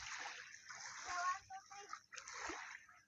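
Children splash while bathing in the sea along the Bohol shoreline, with bursts of splashing and sloshing water in the middle distance under voices.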